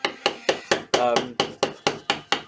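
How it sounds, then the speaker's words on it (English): A hammer drives a chisel into a wooden log being carved into a sculpture, striking in a steady rhythm of about ten sharp, close knocks. "chisel and remove all the wood"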